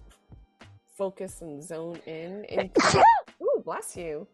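A person speaks briefly, then lets out a single sharp sneeze followed by a short vocal reaction.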